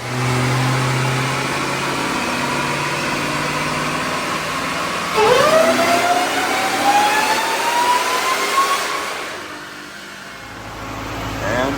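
A supercharged 5.7-litre Hellcat engine on a dyno run, a loud steady drone that climbs into a rising supercharger whine as revs build, then drops away as the run ends.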